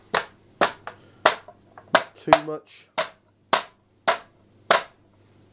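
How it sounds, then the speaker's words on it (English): Crow fillets are batted flat with around nine sharp, evenly spaced slaps close by, one every half second or so, as a voice speaks briefly in the middle. "I'm just going to bat them out a little bit."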